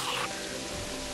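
Steady rain falling in the video game Terraria, a soft continuous hiss of raindrops throughout the short stretch, with no speech.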